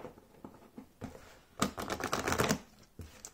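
Oracle card deck shuffled by hand, a soft riffling burst of papery flicks lasting about a second between quieter taps and handling noises, close and fairly quiet with no talking.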